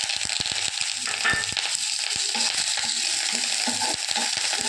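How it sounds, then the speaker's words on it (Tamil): Dried or green chillies, a piece of tamarind and handfuls of curry leaves fry in hot oil, crackling and spitting in rapid irregular pops over a constant close sizzle. "நல்லா எண்ணெயில் ஃப்ரை பண்ணணும்."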